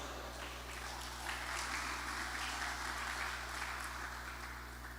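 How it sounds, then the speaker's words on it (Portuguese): A church congregation claps for Jesus in steady, even applause heard at a moderate distance over a constant low hum, continuing without a break for the whole stretch. "dê uma salva de palmas para Jesus"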